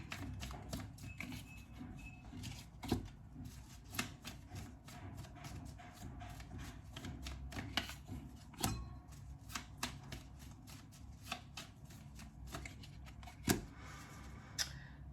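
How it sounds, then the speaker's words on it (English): A deck of tarot cards is shuffled by hand close up, quiet crisp riffling and rapid flicking taps in bursts, with occasional sharper slaps of cards. "you saw me shuffling"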